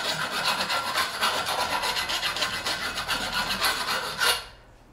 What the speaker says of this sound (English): Okay, we're going in with a round file.